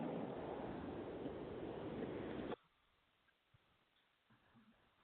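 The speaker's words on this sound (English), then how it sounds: "I heard the ocean." Ocean surf comes through a Skype call as a steady, loud roar for about two and a half seconds, then cuts off sharply to near silence with faint clicks.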